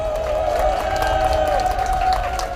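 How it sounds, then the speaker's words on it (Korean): A crowd at an outdoor campaign rally in a Mokpo park applauds and cheers to welcome a speaker, a continuous wash of clapping under a steady musical tone. "큰 박수로 환영해 주시기 바랍니다."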